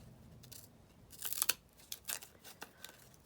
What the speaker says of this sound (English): Oh, I think my scissors are a bit blunt.